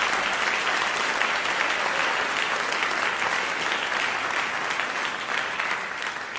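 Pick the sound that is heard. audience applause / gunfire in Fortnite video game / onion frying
audience applause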